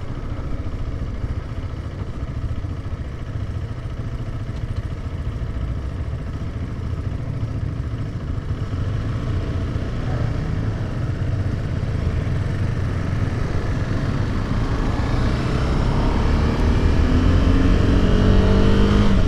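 A 2021 KTM 390 Adventure motorcycle's single-cylinder engine drones steadily while riding, with a low rumble and wind noise that swell gradually louder toward the end, no voices.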